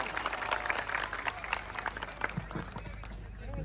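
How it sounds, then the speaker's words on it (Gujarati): Applause from an audience at an Aam Aadmi Party political rally speech, a scattered clatter of clapping mixed with crowd noise and some voices, moderately distant. "એમને માઇક આપવું એ પહેલા તાળીઓનો ગડગડાટ થઈ જવો જોઈએ"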